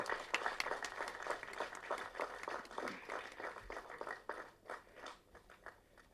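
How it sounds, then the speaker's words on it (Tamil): A Tamil-speaking audience gives a fairly faint round of applause as guests are welcomed onstage, a crackly, uneven patter of hands that swells briefly and then tapers into scattered claps. "நல்ல பலத்தை கரகோஷம் கொடுங்க"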